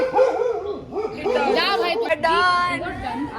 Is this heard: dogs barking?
yes